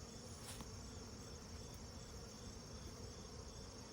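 Honey bees buzz in a continuous, steady, close drone during a Layens hive inspection, with a dense insect hum filling the whole stretch and no talking.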